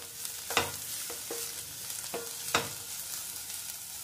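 Carrots and capsicum sauté for oats upma, a continuous soft sizzle broken by a few sharp spatula scrapes and taps against the pan, close and without talk.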